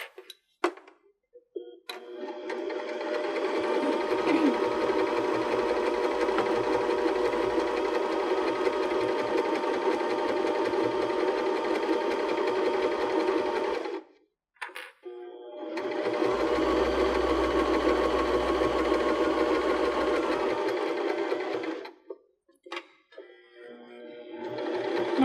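Sewing machine stitching the lining of a cork-trimmed purse, running in two long, steady, loud bursts separated by a short pause for pivoting, with a few brief clicks at the starts and stops.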